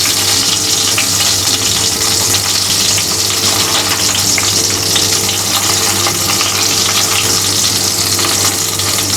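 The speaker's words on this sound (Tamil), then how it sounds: "இப்போ நம்ம எல்லா கத்திரிக்காயும் எடுத்து உள்ளே வச்சிடலாம்." Steady loud sizzling of eggplants frying in hot oil, continuous and close, with a low hum underneath and no talking.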